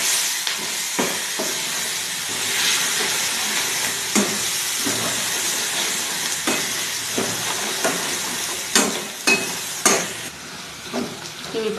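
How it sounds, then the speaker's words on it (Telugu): Spices for tamarind rice tempering sizzle steadily in hot oil, a dense continuous hiss broken by frequent pops and a few stirring clatters, close up with no talking. "ఇవి ఇప్పుడు బాగా ఫ్రై అయిపోయండి."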